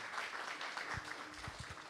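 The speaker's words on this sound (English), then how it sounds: "Can we give them a round of applause, please?" Applause from a temple class audience, soft, scattered clapping of a small crowd, faint and distant, with a few louder individual claps near the end.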